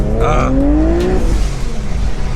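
A Vortech-supercharged 2012 Infiniti with a 6-speed manual and 20-inch wheels accelerates hard nearby, its engine note rising loudly in a steady climb as it pulls away and fades into road noise.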